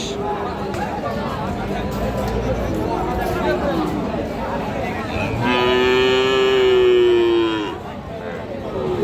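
A calf at a cattle market lets out a long, loud moo that swells and fades, set against the busy chatter and babble of a crowd of traders.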